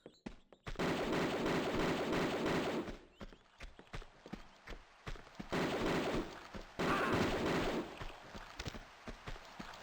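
Automatic pistols firing in Tomb Raider 2, heard as loud bursts of rapid repeated shots that come in two long volleys with short breaks and scattered single reports between them.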